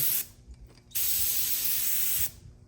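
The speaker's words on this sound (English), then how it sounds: "I'm gonna take a little bit, spray on this rag." A can of carburetor cleaner hisses in a long, steady burst up close onto a rag, with a short spray before it and some faint clicking in between.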